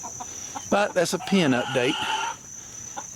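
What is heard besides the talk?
chickens clucking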